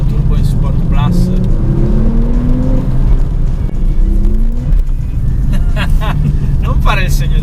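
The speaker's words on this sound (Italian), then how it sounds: "Allora, vediamo come si comporta la turbo in Sport Plus." Porsche 911 Turbo driven hard in Sport Plus mode with traction control off, its engine droning loudly and steadily throughout with rising pitch sweeps as it accelerates, with people talking over it.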